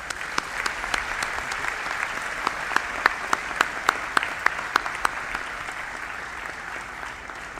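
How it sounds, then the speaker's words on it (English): Sustained audience applause at a graduation ceremony: a broad wash of clapping with a few louder, distinct nearby claps standing out, steady throughout and fading slightly at the end. "I now ask everyone to join me in applauding the efforts of our families and faculty staff members."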